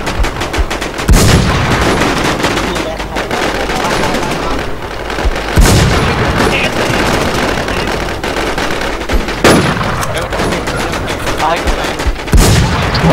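Gunfire in the video game Infestation: a steady, dense stream of rapid shots with heavy, sharper bursts standing out every few seconds, loud and close throughout.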